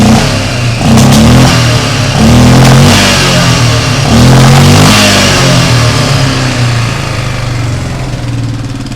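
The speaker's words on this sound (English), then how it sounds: "It's definitely idling a lot better." Old 4x4 ATV engine idling close by, a loud, rough, low chugging that surges and dips in uneven waves, the rhythm wavering with no voices.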